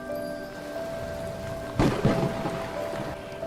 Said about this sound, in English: Heavy rain poured and did not stop the whole day and night.